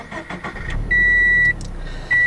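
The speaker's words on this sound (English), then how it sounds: "it starts up with that typical flat boxer 4 somewhat interesting noise" A 2015 Subaru BRZ with a flat boxer four-cylinder and manual gearbox is push-button started. Electronic beeps are followed by a loud, low engine burst, a brief dip, then the engine catching again.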